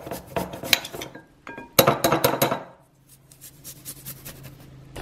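Utensil clinking and scraping against a bowl as sugar, Ngoc Mam fish sauce and grated garlic are mixed for a Thai-style chicken vermicelli sauce, with a burst of close, rapid taps midway, then quieter.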